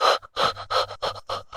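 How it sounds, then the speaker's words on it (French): Short, quick panting breaths during a yoga session: six rapid breathy puffs in a steady rhythm, close and clear, with no talking. "En restant avec des petites respirations haletantes peut-être."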